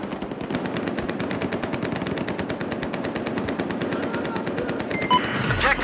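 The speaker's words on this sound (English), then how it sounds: "Looks like an enemy machine gunner approaching from your west." Fast, continuous automatic gunfire rattles without pause for about six seconds in a Battlefield 4 gunfight, close and loud throughout.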